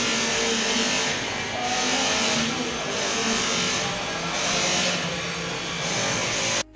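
A Royal Enfield diesel Bullet motorcycle engine runs close by with a loud, steady, continuous drone that swells slightly and then cuts off abruptly at the end.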